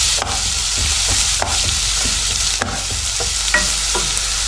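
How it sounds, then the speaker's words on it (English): Sliced leek and diced onion fry in a pot with a loud, constant sizzle, broken by regular scraping strokes of a spoon stirring through them. "just add first of all sliced leek and diced onion into the pot first of all"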